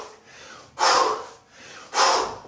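Heavy rhythmic breathing during back-to-back jump squats in a home lockdown workout, with two forceful, loud exhalations a little over a second apart between softer inhalations, close and alone.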